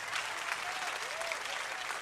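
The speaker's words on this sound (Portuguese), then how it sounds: "salva de palmas" Faint, even applause from a group after a timed challenge at a talk, continuous clapping at a distance with a few voices in the background.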